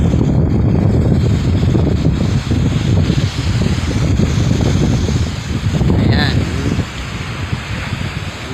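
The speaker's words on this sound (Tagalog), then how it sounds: "Tingnan nyo, malakas po ang hangin dito sa amin." Strong wind blows hard outdoors, a loud, steady roar battering the microphone with rumbling gusts throughout, with people speaking underneath.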